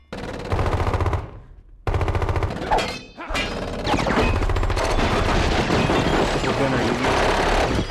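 Tech 9 machine pistol in the video game Saints Row 2, loud rapid automatic bursts in several stretches with brief pauses, mixed with crashes and shouting voices over the fire.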